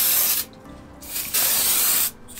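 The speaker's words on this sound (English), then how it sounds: "Grab some brake cleaner, spray down that rotor" Brake cleaner sprayed from an aerosol can onto a new brake rotor on a 2005 Dodge Sprinter campervan: three close, loud bursts of hissing spray with short pauses between them.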